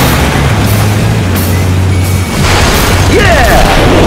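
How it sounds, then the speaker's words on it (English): Flak bursting from anti-aircraft guns below a jet in the combat flight game Top Gun: Hard Lock, a continuous loud rumble of booms and pops with engine drone beneath, no voices. "We're taking flak."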